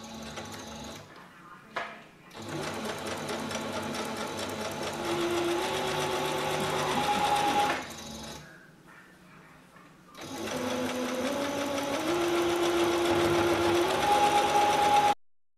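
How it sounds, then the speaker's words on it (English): Sewing machine stitching the pressed hem of pajama pants with a little back stitch, a close, loud, continuous whirring run, a brief pause and quieter patch, then another long steady stitching run. "So now I'm ready to stitch my hem along the pressed edge. I'm going to do a little back stitch."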